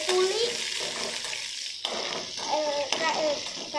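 Onion, ginger, mustard seeds and garlic sauté in a pan, a crackling sizzle with stirring scrapes and clatter while a voice talks intermittently over the cooking.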